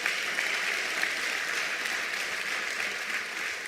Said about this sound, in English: Let's give government a big hand of applause.